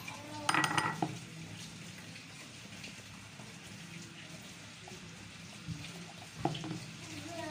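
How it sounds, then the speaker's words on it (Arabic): A metal spoon clinks and scrapes against a bowl while scooping dam al-ghazal powder for a homemade cheek and lip tint. A cluster of bright taps comes at the start, then a quiet stretch, then one more clink near the end. "هنجيب معلقه عشان ننزل في البولة بالدم الغزال، معلقة او معلقة ونص"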